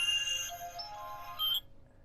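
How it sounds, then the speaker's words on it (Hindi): A mobile phone rings with an incoming call, a bright electronic melodic ringtone of a few tones playing close and clear for about a second and a half before stopping. "ये देखो दूसरी भाभी का फोन आ गया, आप देखो सुनो।"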